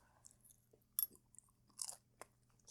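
Crunchy homemade crepe being chewed close up, a few sharp crisp bites and crunches spaced irregularly over a quiet background, with no talking.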